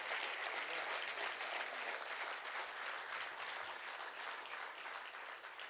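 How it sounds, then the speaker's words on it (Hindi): A crowd at a large Hindi kavi sammelan poetry gathering breaks into sustained applause, a dense, even roar of clapping heard at some distance, tapering slightly toward the end. "थोड़ा और तेज बढ़ाइए तालियां"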